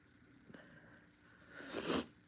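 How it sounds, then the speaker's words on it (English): A single nasal sniffle by a woman indoors, a brief breathy intake rising near the end after a faint click, quiet and close with no talk. "I'm really sorry I sniffled."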